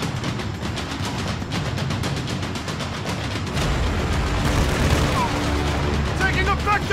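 Sustained automatic gunfire in Call of Duty Warzone II, a rapid, close, rattling stream of shots that grows heavier and more chaotic, with voices talking in the background.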